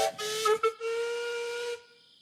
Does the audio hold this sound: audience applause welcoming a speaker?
no